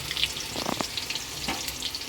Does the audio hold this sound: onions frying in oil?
yes